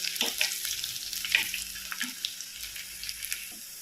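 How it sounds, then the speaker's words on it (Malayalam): Shallots and green chillies hit a pan already holding ginger, garlic and turmeric, giving a quiet, close sizzle broken by a few sharp stirring scrapes and spatters over a few seconds, with no voices. "നമുക്ക് ചുവന്നുള്ളിയും പച്ചമുളകും ഇട്ട് കൊടുക്കാം"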